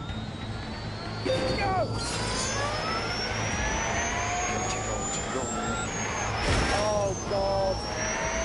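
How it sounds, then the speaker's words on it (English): Rimac Concept 1 electric supercar in The Grand Tour video game, a rising electric whine climbing steadily in pitch as it accelerates, with excited voices talking over it. "here it is, the Rimac Concept 1. The world's first electric supercar."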